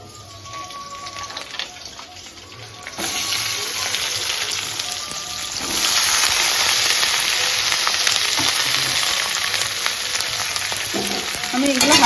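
Garlic, chilli, capsicum and onion frying in a pan, a dense close sizzle that jumps louder as more vegetables go in, then holds as a steady, intense crackle.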